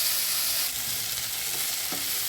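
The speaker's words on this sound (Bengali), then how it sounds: "নাড়াচাড়া করে মোটামুটি একটা ভাজা ভাজা হয়ে গেছে" Vegetables and cauliflower stems stir-fried in a pan for a dried lote fish dish, a steady close sizzle with occasional scraping stirs and no voices.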